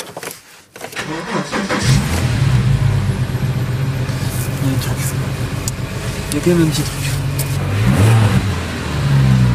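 A Porsche engine starts and revs with a deep, throaty exhaust rumble, sustained and swelling, while a person talks over it.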